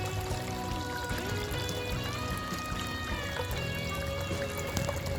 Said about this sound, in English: might just turn the water down a little bit